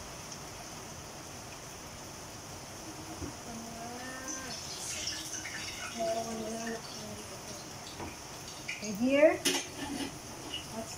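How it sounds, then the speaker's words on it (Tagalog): Bihon noodles are stir-fried in oil in a pan, with scraping and clinking of a spatula against the metal in a near, moderate rhythm while a voice speaks briefly. "Mag-start na tayo na mag-fry."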